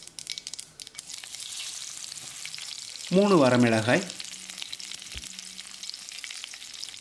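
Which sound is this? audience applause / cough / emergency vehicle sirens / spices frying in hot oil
spices frying in hot oil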